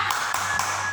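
Children clapping together in a rhythmic spirit clap in a kindergarten class, with a few quick, crisp claps close by.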